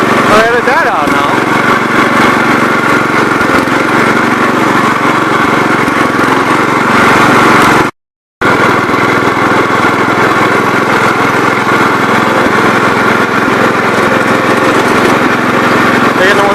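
A 126 tractor engine runs steadily at a loud, constant drone nearby, with a brief cut in the middle before the same even running continues.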